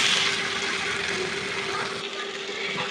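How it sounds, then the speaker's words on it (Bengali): Polao rice grains tipped into hot oil in a home kitchen pan, giving a loud, steady broadband sizzle that holds for a few seconds and then drops slightly toward the end. "সেই তেলের ভিতরেই পোলাও চালগুলো এবার দিয়ে দিব"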